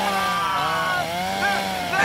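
A loud, steady chainsaw drone with a buzzing, wavering whine that rises and dips in pitch throughout.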